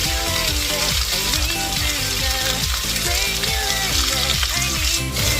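Food stir-fries in a hot pan before the fish fillet goes in, giving a loud continuous sizzle with rhythmic scraping strokes of a utensil.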